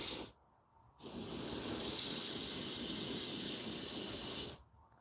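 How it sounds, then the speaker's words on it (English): An air compressor and an airbrush-style air gun hiss while lures are being painted. A short burst comes first, then after a pause a long, steady, fairly loud hiss lasts several seconds before cutting off. "over the noise of my air compressor and the air gun"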